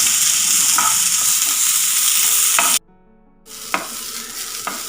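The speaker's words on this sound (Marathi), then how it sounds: "लालसर होईपर्यंत कांदा भाजून घ्यायचा आहे" Onion fries in half a spoon of oil until reddish, a loud continuous close sizzle that cuts out briefly, then returns with a couple of stirring clinks.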